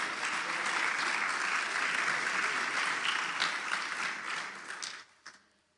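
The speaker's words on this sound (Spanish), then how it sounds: "Denle un aplauso a la palabra de Dios." A church congregation applauds during a Spanish-language sermon, with dense, steady clapping that holds loud for about five seconds and then quickly tapers off to a few scattered claps.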